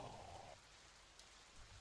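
Steady rain from a frost giant battle soundset hisses quietly and evenly, with a brief brighter patter near the start and no voices.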